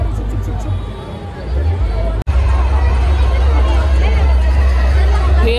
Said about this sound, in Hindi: भीड़ भाड़ देख सकते हो भाई।